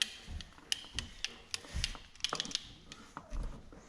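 Ratcheting clicks from a wrench tightening an exhaust bolt during an FMF shorty exhaust install on a KTM SX 85 dirt bike, sounding in short irregular bursts of close metallic ticks with pauses between, no talk.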